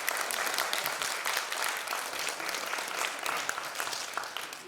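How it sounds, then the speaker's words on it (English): Steady audience applause at a sales motivation and skills training event, dense and continuous clapping from a crowd filling the whole stretch without a break. "One more round of applause."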